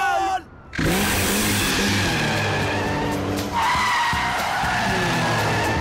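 A car skids with loud squealing tires and a roaring engine, a sustained screech that dips briefly near the start, then surges again with a second squeal midway, close and intense.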